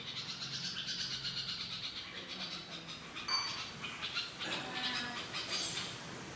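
House sparrows chirp and twitter continuously in rapid, high-pitched bursts over a steady background hum, indoors.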